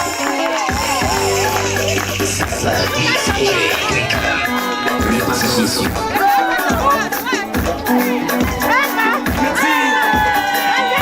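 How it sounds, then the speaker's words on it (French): A loud crowd cheers and shouts continuously over music, with whoops and excited voices filling the whole stretch. "On applaudit, mesdames et messieurs."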